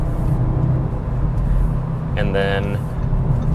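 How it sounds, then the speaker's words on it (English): A 2022 Audi S3 accelerates hard onto an interstate from the on-ramp. A steady engine and road drone rumbles loudly from inside the cabin while someone talks over it. "accelerating onto the interstate, I've got my foot in it."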